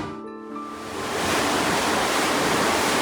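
Rushing water surging up on a splashing theme park water ride at Efteling, building from a quieter start into a steady broadband roar over three seconds, with no voices.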